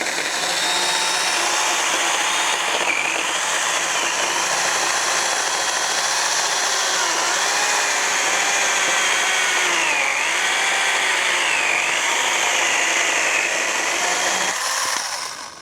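A Stihl GTA 26 cordless pruner cuts through a 4-inch piece of softwood, giving a loud, steady motor-and-chain whine that holds for about fifteen seconds before cutting off at the end.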